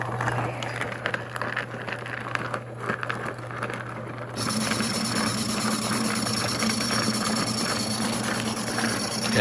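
Two rock tumblers loaded with lace agates: a quieter one hums steadily at first, then a louder homemade tumbler joins midway with a continuous rumbling, rattling drone that lasts to the end, close and constant with no talk.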